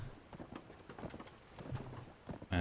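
Horse hooves clip-clop in a steady trotting rhythm during a mounted ride in the online game Black Desert Online, fairly quiet and continuous, with no voices.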